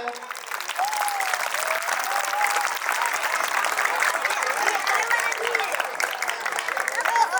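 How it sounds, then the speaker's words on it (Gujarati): Sustained applause from an audience greets a lamp lighting ceremony, with steady, dense clapping filling the room from start to finish and a few voices mixed in. "આપણે તાળીઓથી વધાવીએ"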